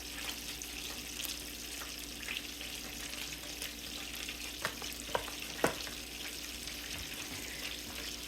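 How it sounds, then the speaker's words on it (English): Half a stick of butter melting in a pan gives a steady, quiet sizzle with a few faint clicks and taps, close by and with no voices. "we got our half a stick of butter here. Melting there."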